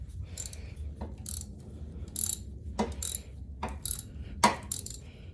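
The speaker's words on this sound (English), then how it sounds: "Take that bolt out, loosen it, and then there's one at the bottom." Loosening a bolt on the 2.0 L engine of a 2010 Ford Transit Connect during a water pump replacement: a series of short metallic ratchet clicks in separate bursts, fairly close, with no talking.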